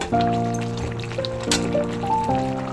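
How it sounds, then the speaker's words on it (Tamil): Tamarind water pours into a simmering vegetable kara kulambu with broad beans, drumstick, carrot and potato, giving a close, steady liquid trickle and gurgle under a faint background tone. "புளி தண்ணி கொஞ்சம் சேர்த்துக்கலாம்."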